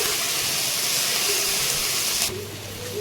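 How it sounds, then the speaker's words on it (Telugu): Ginger garlic paste sizzling and frying in a hot pan, a steady loud hiss that drops to a softer sizzle near the end, with no talking. "ఇప్పుడు అల్లం వెల్లుల్లి పేస్ట్ 2 స్పూన్స్ యాడ్ చేసుకొని పచ్చి వాసన పోయే వరకు బాగా ఫ్రై చేసుకోవాలి."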